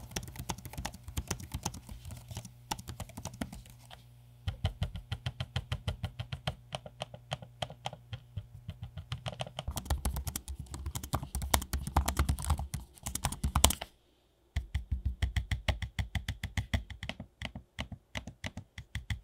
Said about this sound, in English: a quick sample of me using the trackpad and keyboard so you can have an audio sample